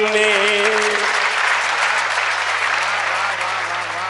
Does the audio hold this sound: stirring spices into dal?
no